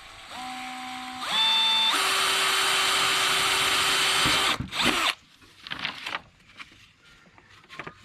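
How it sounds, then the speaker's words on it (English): A power drill boring a hole through a hole-saw template: the motor whines up through rising pitches, then runs a loud steady cutting drone for a few seconds before stopping abruptly, followed by quieter handling clicks and rattles. "Then I always drill this hole first."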